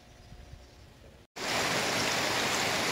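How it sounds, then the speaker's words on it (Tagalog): Rain falling outdoors at a rural organic farm, starting abruptly after a quiet moment and becoming a loud, steady, broadband hiss that fills the rest of the stretch. "Nag-ulan na sad guys."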